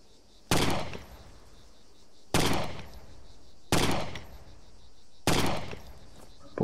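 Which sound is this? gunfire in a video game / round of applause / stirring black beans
gunfire in a video game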